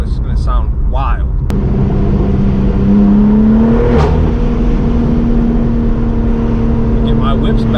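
BMW M4 G82 manual coupe fitted with a titanium catback exhaust revs up close and loud after a brief voice, the engine note climbing and holding a steady high drone before easing off under faint talk.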